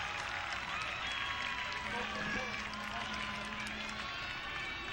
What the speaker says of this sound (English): The Attleboro crowd calling for the pass interference.